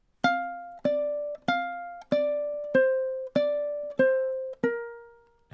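Ukulele playing measure 28 of a riff: eight crisp plucked notes in steady time, each ringing and decaying before the next, close and solo without voices.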